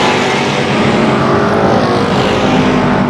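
Pro Stock race cars roar around Tucson Speedway in a steady, loud, continuous engine drone with no break, several cars close together on the short track.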